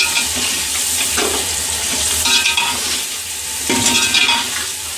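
Chopped tomatoes and spice masala frying and being stirred in a pan for matar pulao, a steady close sizzle with scraping stirs swelling every second or so, no talking.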